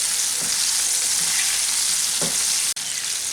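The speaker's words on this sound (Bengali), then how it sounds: "একটু সময় নিয়ে এটাকে ভেজে নিতে হবে" Chicken pieces frying in oil, a loud, constant close-up sizzle with a few soft stirring knocks and one brief dropout near the end; no talking.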